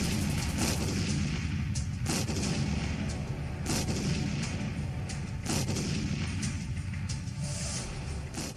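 A series of sharp, heavy blasts booms out at irregular intervals over a constant low rumble, like repeated artillery explosions in the distance.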